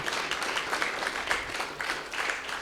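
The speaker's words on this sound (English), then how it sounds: "Please give her a round of applause for being here today." Audience applause at a women-in-motorsport symposium honoring guest Lynn St. James, a steady, dense wash of many hands clapping throughout, moderately loud with no talk.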